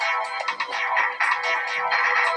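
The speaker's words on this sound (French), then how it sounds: "C'est quoi cette sonnerie pourrie?" A phone ringtone playing a loud, bright electronic melody in rapid repeating notes, continuous and close, with no talk over it.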